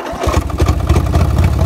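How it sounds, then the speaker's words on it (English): A small engine with bad fuel, started without choke, catches and settles into a steady rough running rumble, loud and close, with a slightly uneven throbbing pulse throughout. "It just started without choke"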